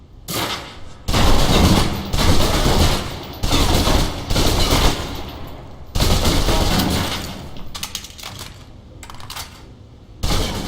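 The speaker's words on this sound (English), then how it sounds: "Now, let's move on to the submachine gun. Now let's empty the clip." A submachine gun in the video game Alpha Protocol empties a full magazine in several close, loud bursts of rapid fire, each burst separated by short pauses.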